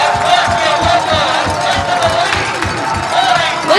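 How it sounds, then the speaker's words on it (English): High school football crowd at a Ludlowe vs Norwalk game, a loud sustained roar of cheering and shouting with rhythmic stomping or chanting pulses throughout. "Listen to this crowd right now."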